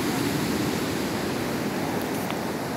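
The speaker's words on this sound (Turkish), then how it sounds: "Denizin müthiş bir dalgası var." Rough sea waves pound the shore in a constant, loud, roaring wash of surf, heard close and without any voices.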